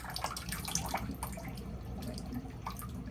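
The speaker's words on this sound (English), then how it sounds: "you hear the water flowing a lot better" Water from a manufactured home's bathtub drains steadily through a freshly unclogged pipe, a continuous close gurgling wash with small splashy bursts and no talk.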